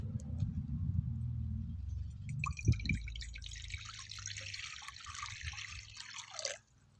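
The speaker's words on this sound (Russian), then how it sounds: "В миску наливаем 600 мл теплой воды." Warm water, 600 ml, poured into a mixing bowl for homemade bread dough: a steady splashing stream runs for several seconds after a brief clunk, then cuts off abruptly, heard close and fairly quiet.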